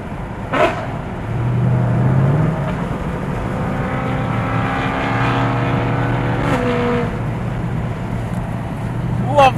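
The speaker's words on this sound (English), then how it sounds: "Love the sound of that S65, but I don't think it's fast enough for me." A Mercedes S65 AMG engine drones steadily while the car drives, its tone rising and shifting with acceleration; a voice speaks briefly near the start over the engine noise.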